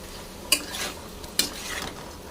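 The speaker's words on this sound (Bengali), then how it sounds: "ভালো করে কষিয়ে নেব" A spoon scrapes and stirs paneer and potato curry with salt in a pan, giving two sharp clatters followed by soft sizzling and scraping, close and moderately loud.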